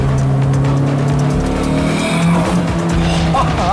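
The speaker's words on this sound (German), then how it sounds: "man hört schön den Turbo abpfeifen" A tuned turbocharged car, revved by a hobby tuner, roars loudly nearby, its engine note shifting as the turbo whistles and blows off, with faint voices in the background.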